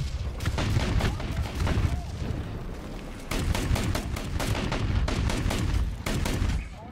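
Rapid bursts of 40mm autocannon fire from a Stridsfordon 90C infantry fighting vehicle in the tank combat game War Thunder, loud sustained volleys of repeated booming shots with a brief pause partway through.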